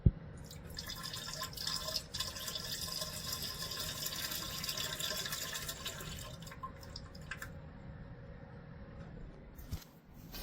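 Water pours steadily during a salt water flush, a continuous splashing and trickling like a pitcher emptied into a sink, fairly loud and unbroken for most of the stretch before thinning out and fading near the end.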